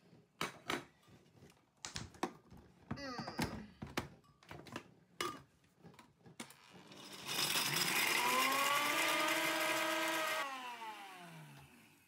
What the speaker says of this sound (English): So we're going to be blending the rest here now.